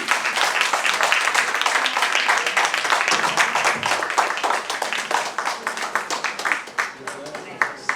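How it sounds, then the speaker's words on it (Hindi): An audience claps at a book launch celebration, dense steady applause that thins toward the end, with voices mixed in. "उस जोश के साथ हम क्लैपिंग कर सकते हैं"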